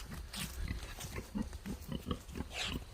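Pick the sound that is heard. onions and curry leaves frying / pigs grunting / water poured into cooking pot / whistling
pigs grunting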